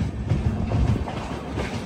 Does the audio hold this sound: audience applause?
no